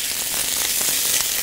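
Food sizzling loudly and steadily in a hot pan while being stirred during a Turkish breakfast cook, a dense continuous crackle close by with no voices.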